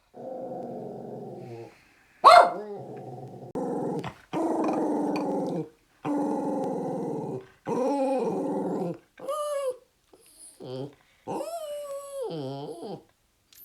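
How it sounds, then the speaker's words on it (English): A small dog growls and whimpers in a run of repeated bursts, with yelps and rising whiny howls near the end, close and fairly loud with short pauses between. "It's just a dog."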